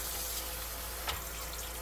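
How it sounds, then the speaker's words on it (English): Steady running water from a sink tap streams over dishes being rinsed, a continuous close hiss with one brief splash partway through. "this can be just rinsed, put back into the dish drainer"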